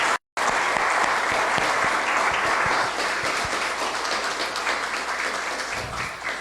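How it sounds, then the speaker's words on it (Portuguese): Sustained applause from an audience at a Spiritist talk, honoring a young person named Madu, dense and steady, beginning after a brief silence and holding fairly loud throughout with a slight fade toward the end. "Madu, uma salva de palmas para você."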